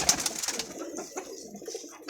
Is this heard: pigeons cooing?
yes